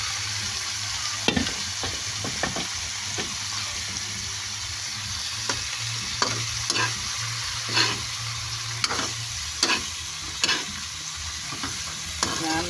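Kamansi (breadfruit) pieces frying in a pan for ginataang kamansi, a continuous sizzle broken by regular scraping stirs and spoon clicks, close up with no voices.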